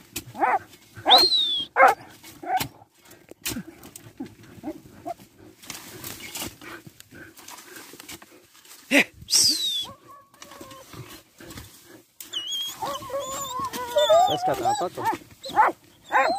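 Hunting dogs bark in short repeated bursts at a moderate distance during a hunt, with louder yelps and a whining cry later on, mixed with outdoor rustling and occasional voices.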